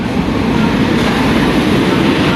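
Lokmanya Tilak Express at a station, running between Kochuveli and Lokmanya Tilak: a steady, loud broadband rumble of the train, continuous and close, with no voices.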